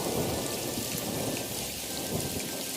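Steady rain pours down, dense and hissing, while low thunder rumbles beneath it, the storm continuous and fairly close with no voices.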